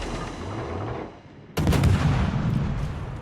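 Heavy naval gun salvo booms out in World of Warships, a sudden loud blast after a quieter rumble, followed by sustained rolling report and crackle of firing at sea.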